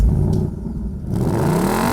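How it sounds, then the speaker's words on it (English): A 2018 Mark 6 Ford Mustang's 5-litre V8 fires up close by, a loud, dense engine rumble that swells into a rising rev with no talking. "when you fire up the engine,"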